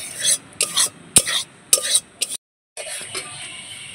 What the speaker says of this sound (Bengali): এইটাকে আমি একটু ভেজে নেবো, তাহলে আর গন্ধটা হবে না